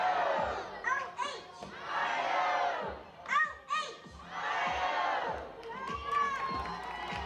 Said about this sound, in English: we have Ashton, who is going to lead us in our OH chant